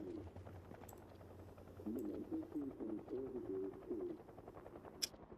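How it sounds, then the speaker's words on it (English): A distant helicopter in the video game Project Zomboid, heard as a faint low rhythmic thumping that swells in the middle of the clip, with no talk over it. "Oh, I hear the helicopter."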